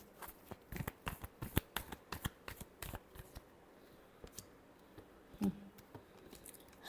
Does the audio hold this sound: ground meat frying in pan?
no